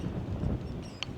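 Steady wind buffeting a microphone, a continuous low rumble with a faint brief click near the end.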